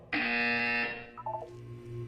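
A buzzer in the Portal 2 video game gives one loud, steady electronic tone for about three quarters of a second, then cuts off, leaving faint lower tones and a soft hum.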